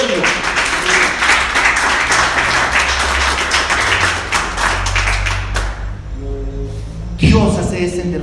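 A church congregation applauding the Lord, a dense wash of clapping from many hands for about five seconds, then fading as someone speaks over a low sustained organ-like tone.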